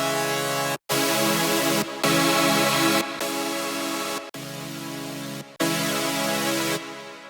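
Six future bass chord-stack synth layers play one after another, each a sustained, bright chord lasting about a second. Short silent gaps separate them, and the loudness shifts slightly from layer to layer. No voices are present.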